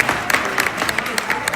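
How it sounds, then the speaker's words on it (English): An audience at a film screening claps in a brief, scattered round of applause, sharp individual claps over a low crowd murmur. "Another round of applause for That Kid the Film."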